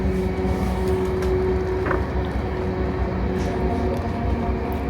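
Steady rumble of a Class 458 train in motion near London, heard from inside the carriage, with a continuous low drone and a faint tonal whine running throughout.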